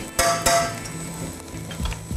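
Mushroom goulash sizzles in a pan as wine reduces off, a steady close frying hiss broken by a couple of sharp clinks from a utensil against the pan early on.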